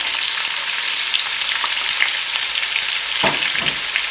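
Loud, steady sizzling of onions frying in hot oil, with a couple of stirring scrapes near the end and no talking.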